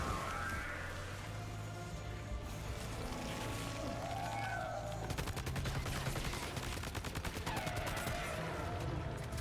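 Rapid automatic gunfire from a newly picked-up gun in the video game Death Stranding 2, a dense rattling burst of shots over a steady game background with music.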